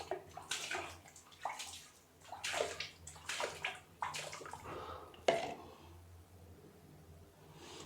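Water sloshes and pours in uneven splashy bursts from a leather water skin into a drinking vessel, close and fairly quiet, ending in a softer trickle with no talking.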